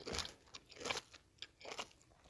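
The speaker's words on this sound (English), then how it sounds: "so tasty, so crunchy, so juicy" Crisp crunching bites into a homemade salsa salad of fresh, juicy vegetables, heard up close as several chewing crunches in an uneven rhythm, with no talking over them.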